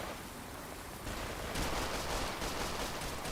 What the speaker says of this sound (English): I've got gunshots to my left.